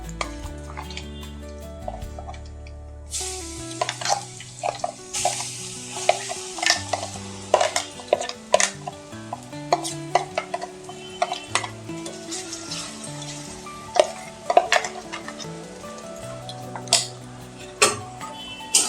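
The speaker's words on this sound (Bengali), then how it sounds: "ডালটা অনবরত নাড়তে হবে। তা না হলে নিচে লেগে যাবে।" Chana dal fries with asafoetida and cumin in a pan, a spatula scraping and clinking in quick irregular strokes over a light sizzle, close and moderately quiet after a short musical opening, with no talk.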